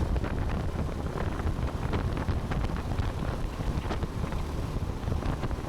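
Wind buffets the microphone during a hobby kart race at Rapla, a constant loud, rough rushing and flutter that fills the whole stretch with no speech.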